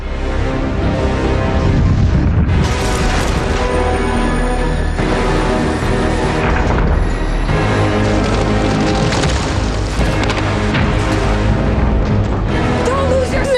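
Heavy booming blasts and a continuous roar of explosions from a film set and miniatures blowing up, loud and dense, with a dramatic layered soundtrack running underneath throughout.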